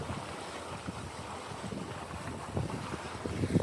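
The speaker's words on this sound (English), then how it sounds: "just the main up. It's working great. We're at 6 knots, riding the wind in." Sailboat under mainsail alone making about 6 knots downwind on the Columbia River, with steady wind rush and buffeting on the microphone and low water swishing against the hull, no talk.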